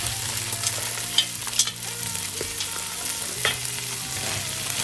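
Peas sizzle and fry in a pan for shrimp fried rice, with a steady crackle and a few sharp stirring scrapes and clinks near the mic; no talking.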